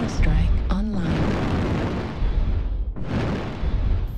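Airstrike explosions in a video game, a sustained heavy rumbling blast that rolls on for several seconds and then swells again with a second booming wave, loud and dense throughout.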